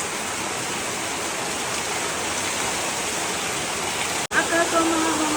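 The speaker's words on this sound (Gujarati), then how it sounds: "એટલો વરસાદ આવી ગયો" Dense, steady roar of heavy rainfall, constant and close, broken near the end by a brief cut and a faint voice.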